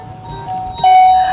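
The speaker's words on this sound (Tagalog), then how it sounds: "may nag-doorbell sa gate!" A doorbell rings nearby with a clear electronic two-tone chime, the second note louder and sustained.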